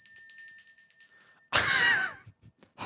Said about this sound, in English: when I ring my dainty little bell, I want you to open your eyes